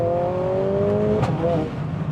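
Mercedes-AMG A45S with stage 2 tune and Eventuri intake revving hard, steady engine drone with a sharp exhaust snap near the middle and a brief second rise, close and loud.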